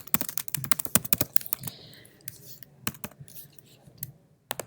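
Quick, uneven bursts of typing on a computer keyboard, close up, with crisp key clicks and short pauses between runs, heard alone without talk.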